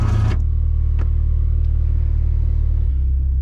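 The hydraulic pump motor of a 2005 PT Cruiser convertible top running in brief bumps, a loud, steady low hum and rumble close by, with a short burst of noise at the start.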